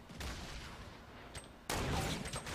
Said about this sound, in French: Ouais, j'essaie de tirer une balle.